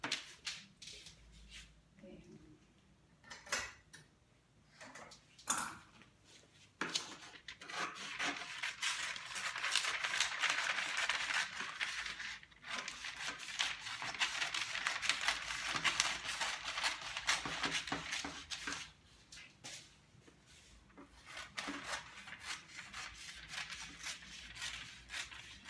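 Scissors cut through fabric for a sewing pattern in long, soft, continuous snipping and rasping strokes, with handling clicks and rustles before and after, close and quiet.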